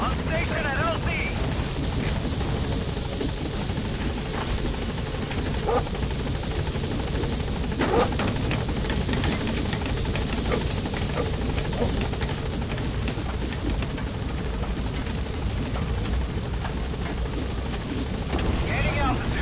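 Helicopter in Metal Gear Solid 5 arriving at a landing zone, a steady loud rotor drone filling the whole stretch with radio-style voices talking over it.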